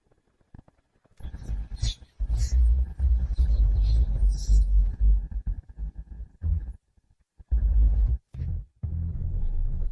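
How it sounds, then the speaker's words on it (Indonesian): Thunder rumbles in heavy, deep bursts in an animated drama, loud and booming with abrupt stops and restarts, a sustained roll broken by short silences. "Itu hanya kebetulan ada petir."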